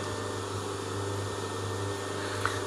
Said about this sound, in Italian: Scusate il rumore di aspirapolvere che si sente di là